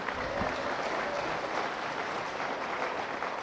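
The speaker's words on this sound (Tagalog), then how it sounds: "bigyan mo ng palakpak ang Panginoon." Congregation at a church service applauds for the Lord, a dense, even wash of clapping heard from within the room, steady and unbroken for a few seconds.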